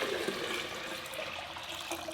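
Water pouring into the reservoir of a Vevor 4L countertop water distiller, a faint, steady splashing stream that runs the whole time with no voices.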